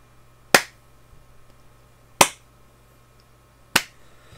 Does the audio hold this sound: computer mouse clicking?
no